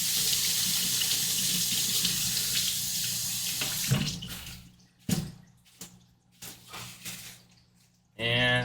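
Asparagus spears rinsed under a running kitchen tap, a steady close water stream for about four seconds, then brief splashes and handling noises between pauses, and the flow returns loudly near the end.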